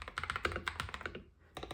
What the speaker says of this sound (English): Now for the typing test with my wobbly keyboard.